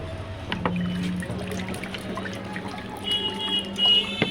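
Water pours into a tank after a fitting and bush replacement, a steady trickling wash over a low constant hum, with a few brief knocks and no talking.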